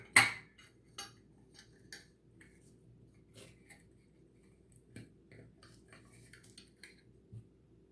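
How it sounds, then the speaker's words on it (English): Metal screws from a Datsun 240Z horn being set down one by one on a hard surface, light sharp clicks and taps spaced irregularly, close and quiet against near silence. "So I will line up the screws here."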